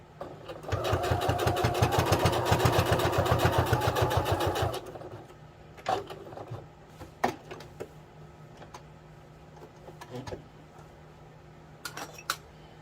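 A sewing machine runs in one fast, steady burst of stitching through polar fleece for about four seconds, then falls quiet apart from a few scattered clicks and handling knocks nearby.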